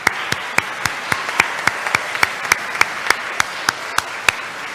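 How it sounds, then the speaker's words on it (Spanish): Applause for singers at a church service, heard as steady, evenly spaced handclaps, about seventeen crisp beats in a regular rhythm, close and fairly loud over a soft room background. "así nos festejaste de un fuerte aplauso para vos"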